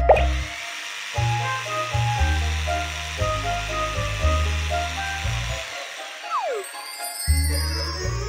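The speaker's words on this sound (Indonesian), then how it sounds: "Ayo kita gergaji papan tempat tidur." Cartoon sawing through a wooden bed board comes as a run of rhythmic, tonal buzzing strokes in short repeated bursts with brief pauses, set over a light musical backing.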